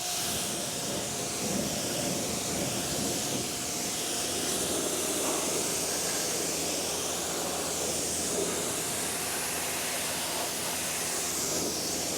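A dirty wheel on a Kia EV6 is rinsed with a water spray, a steady, close hiss of pressurized water running unbroken throughout with no talking.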